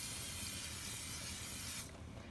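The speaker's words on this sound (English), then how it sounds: "we're going to take some cooking spray and just line the bottom of the skillet" Cooking spray hisses continuously into a skillet for nearly two seconds, a close, steady aerosol spray that cuts off abruptly.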